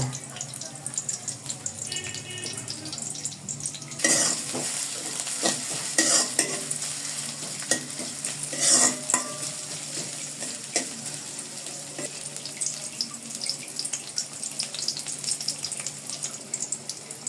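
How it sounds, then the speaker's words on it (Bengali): Onions and chilies fry in a pot for chicken khichuri as rice is stirred in, a constant close sizzle with a sudden louder hiss partway through and repeated scraping of the spoon. "খিচুড়ি পেঁয়াজ মরিচ একটু কম ভেজে আমি এর মধ্যে চাউলগুলো দিয়ে দিব"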